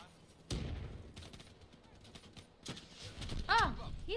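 Gunfire from the Call of Duty Black Ops 3 video game, a few sharp shots and bursts spread across a few seconds, mixed with other game effects and a voice talking over it.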